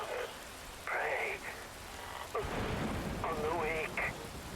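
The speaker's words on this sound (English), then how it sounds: "Rain falls." Rain falls steadily in the video game Metal Gear Rising: Revengeance, a continuous wash of hiss under game voices and bursts of combat sound.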